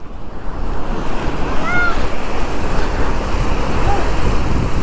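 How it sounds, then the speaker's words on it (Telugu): Floodwater after heavy rain rushes past in a loud, constant roar, a dense unbroken wash of churning water that stays steady throughout, with no voices. "చూడండి గాయస్ ఫ్లో ఎలా ఉందో,"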